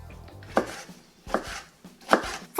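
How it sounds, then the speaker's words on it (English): A kitchen knife dices a tomato on a cutting board, four distinct chopping thuds spaced roughly evenly with quiet gaps between, close and fairly crisp with no talk. "You're gonna start off by first dicing your tomato."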